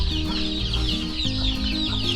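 Chickens clucking steadily on a farm after a heavy storm, several birds close by with overlapping calls and no talk.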